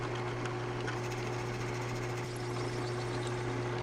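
A drill bores through clamped wood with a steady, continuous whir and buzz, close by and unbroken from start to finish.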